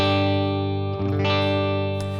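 A Rickenbacker 330 electric guitar with toaster pickups and vintage wiring, bass cut switched off, rings out with a sustained, bright, chiming chord that holds steady and loud, joined by a brief strum in the middle.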